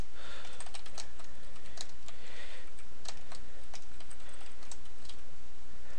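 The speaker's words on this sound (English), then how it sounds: "So this will take just a little bit to type out." Computer keyboard typing, a close steady stream of quick key clicks in irregular bursts over a faint background hiss, with no talk.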